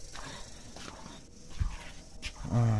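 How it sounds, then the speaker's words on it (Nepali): Soft, rapid panting breaths from a dog, faint and close, with a louder low rumble rising at the very end. "यो कुकुर बाहिर जानु पऱ्यो"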